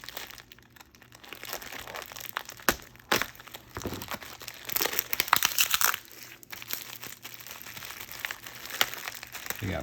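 Plastic packaging bags nested inside one another, crinkled and rustled open by hand from a coin grab bag order, close and fairly quiet, with irregular crackling bursts throughout.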